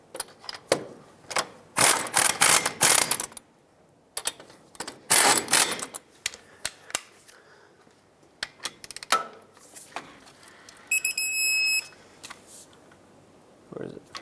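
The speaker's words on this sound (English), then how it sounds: "let's bottom these out and then torque them to 91 foot-pounds" Ratchet tightening caliper bolts on a 2003-09 Toyota 4Runner front brake, heard as bursts of rapid clicking ratchet strokes in several loud, close runs separated by short pauses and scattered metallic taps.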